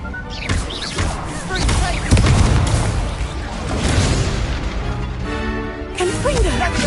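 Booming fire-spell blasts and crashing bursts from Incendio casts in the game Hogwarts Legacy, loud and dense with spell whooshes and other battle effects layered throughout.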